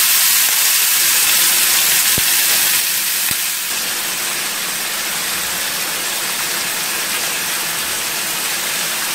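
Pork sizzles in a non-stick pan over low heat as its fat renders, giving a loud, continuous crackling hiss with a couple of sharp pops early on before settling into an even fry.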